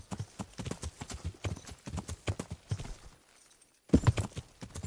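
Horse hooves galloping across ground in the medieval game Kingdom Come: Deliverance, a rapid, loud clip-clop rhythm that pauses briefly near the end before a heavier thud of hooves resumes.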